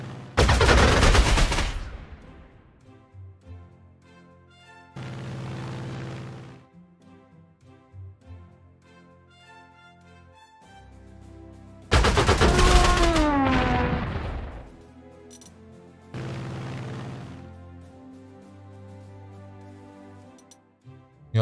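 Bomb strikes in the Panzer Corps 2 war game crash out as heavy explosive bursts, four or five loud separate blasts, one with a falling whistle, separated by quieter tonal game music.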